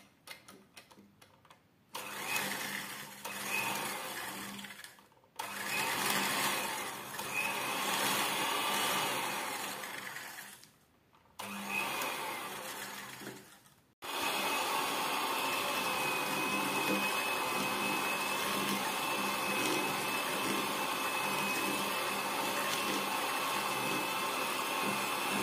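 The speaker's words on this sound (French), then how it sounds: "Maintenant, on va mélanger le beurre avec le sucre glace." An electric hand mixer beats butter with icing sugar for lemon fondant biscuits, whirring loudly in several bursts with brief pauses, then running continuously to the end.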